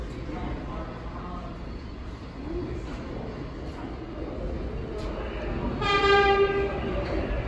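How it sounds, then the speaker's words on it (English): A New York City subway 5 train rumbles steadily at the Bowling Green station platform, with a bright screeching tone rising near the end as it moves along the track. "The next train to arrive on the Uptown track is not in service."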